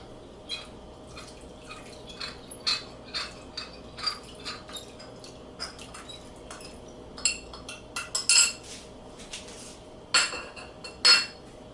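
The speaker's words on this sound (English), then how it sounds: "I make some corn starch slurry here to thicken the sauce or the" Corn starch slurry being mixed for a Salisbury steak sauce: a utensil clinks and taps against a bowl in irregular light strokes, with small wet drips, close and fairly quiet, no voices.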